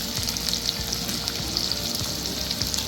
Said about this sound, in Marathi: हे सर्व भाजून घ्यायचं छान।